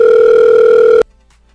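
A telephone call's steady ringing tone sounds loud and alone for about a second before cutting off abruptly, as a radio show places a call.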